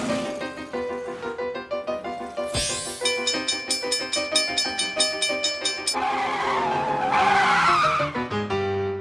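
Cartoon traffic sounds as a playful orchestral score with plucked, bouncing notes and a sudden sharp screech, followed by a hissing skid-like whoosh; the music is busy and fairly loud with no talking.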